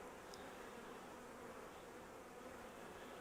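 A swarm of honeybees gives off a continuous, even buzzing hum, faint but steady throughout, with no voices.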